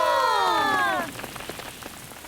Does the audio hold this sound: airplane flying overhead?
no